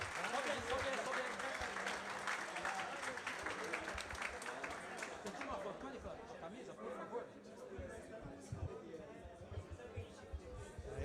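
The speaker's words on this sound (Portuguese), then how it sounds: "Palmas pro Victor aí" An audience at a football event for the São Paulo state championship final claps for a guest, a dense burst of applause that gradually thins out, mixed with crowd chatter and a speaking voice.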